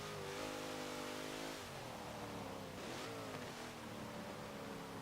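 A 2018 Dodge Durango SRT engine with plenty of upgrades revs hard in Forza Motorsport 7, a loud continuous roar that rises, drops through gear shifts, then climbs again, with no voices.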